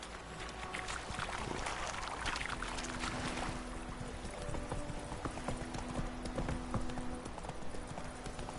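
Geralt's horse Roach from The Witcher 3 clip-clops along at a steady walking rhythm, hooves close and distinct over a constant outdoor ambience of running water.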